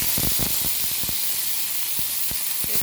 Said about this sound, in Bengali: রসুন আর পেঁয়াজ বাটা আমি এর মধ্যে দিয়ে দিলাম।